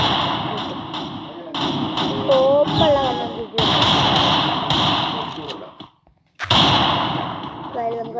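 Rapid bursts of video game gunfire with desert-style guns, loud and close, in repeated clusters with short gaps and a brief silence near the end, while a player talks over the shots.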